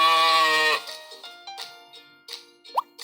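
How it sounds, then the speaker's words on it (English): Sheep bleating, a loud harmonic bleat for most of a second, followed by quieter scattered sounds and a brief sharp plop near the end. "sheep"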